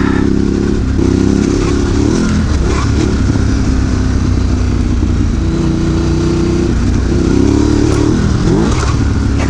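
A Ducati Desert X Rally motorcycle pulls hard and accelerates, its loud, steady engine roar rising and falling through gear changes, close and continuous for about ten seconds.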